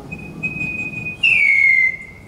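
A man whistles in imitation of Australian birds such as whipbirds and bellbirds: a long steady high note followed by a louder swooping, descending whistle, clear and close with no talking.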